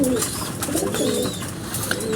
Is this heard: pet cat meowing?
no